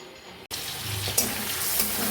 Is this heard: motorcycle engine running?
no